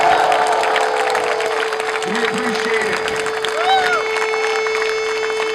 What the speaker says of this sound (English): a round of applause for bringing us back in